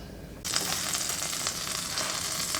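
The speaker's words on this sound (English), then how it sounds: "I'm going to add first 1 pat of butter to start" A pat of butter dropped into about a tablespoon of hot olive oil, bursting into a sudden loud, steady sizzle after a brief quiet start and continuing close up with no talking.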